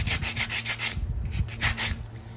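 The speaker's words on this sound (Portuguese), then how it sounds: "Tira todas as quininhas dele aqui," Hand sanding along the edges of a small wooden pallet, a steady back-and-forth scraping rub in quick repeated strokes, close and fairly quiet, with no voices.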